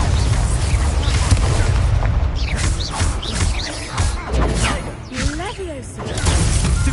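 A Confringo blasting spell goes off in the Hogwarts Legacy video game, a loud booming explosion with crackling, shattering debris and whooshing bursts, followed by a few more pops and impacts amid combat sounds.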